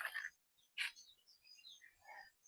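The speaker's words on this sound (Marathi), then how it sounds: "चिमण्यांचा आवाज येतोय." Sparrows chirping in a tree at dawn near farmland, with short, bright, scattered tweets close by in an otherwise quiet morning and no talking.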